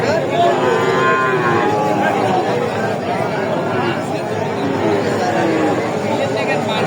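Sahiwal breed bull calves moo repeatedly at a busy cattle market, their long lowing calls rising over a constant hubbub of crowd chatter and people talking nearby.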